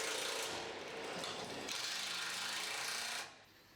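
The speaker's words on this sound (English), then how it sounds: "I'm using the impact wrench and the extension" Impact wrench bolting a pipe support down to drilled and tapped steel, a loud continuous mechanical rattle and whir held close for about three seconds before it cuts off.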